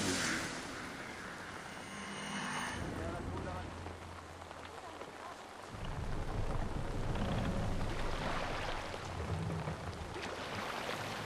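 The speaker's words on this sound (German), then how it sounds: "Es regnet hier heute." Rain falls in the video game Assassin's Creed Valhalla as a quiet, broad, steady wash of hiss that swells a little midway, with voices faintly present.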